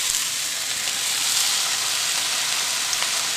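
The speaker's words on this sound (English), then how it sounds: "Now we're going to add the frozen vegetables." Frozen mixed vegetables and potatoes fry in a hot pan for a samosa filling, giving a steady, dense, close sizzle that holds evenly throughout with no talking.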